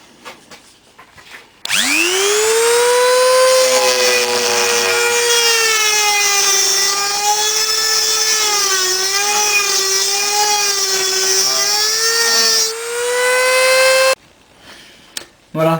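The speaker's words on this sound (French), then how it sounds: "ce que je prends en fait, c'est une pierre à meuler sur une Dremel" A high-pitched Dremel rotary tool whines steadily as its grinding stone bites into metal on a two-stroke Kymco scooter, loud and close, with a slight wavering in pitch for about twelve seconds.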